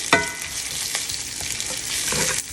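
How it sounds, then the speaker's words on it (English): Onions sauté in a skillet with a bright, continuous sizzle, opening with a sharp clank of the pan and followed by a couple of light scrapes. "You always want to hear that when you're putting something in your skillet, if you're going to saute it or fry it or anything like that"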